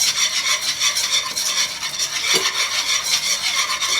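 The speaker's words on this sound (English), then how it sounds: "You don't want to burn it, so you're constantly whisking it" A whisk works flour into melted butter for a roux, thickening toward a gravy-like base for a cauliflower and sweet potato soup; a constant close scraping rasp with a rhythmic pulse.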